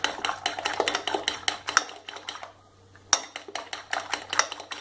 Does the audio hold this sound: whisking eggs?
yes